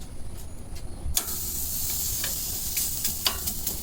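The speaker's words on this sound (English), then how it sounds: "let's hear the sear" Pork ribeye steaks hit a hot Weber Spirit II gas grill with a sudden loud sizzle, then settle into a steady, close, hissing sear with small crackles and pops.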